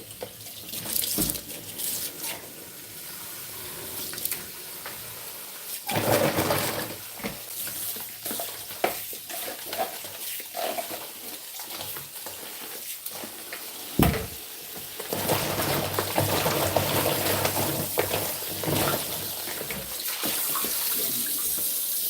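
Tap water runs steadily into a kitchen sink as fresh garden mint, coriander and celery leaves are rinsed, with brief clatters of handling and a sink drainer in place, and the flow swells louder toward the end.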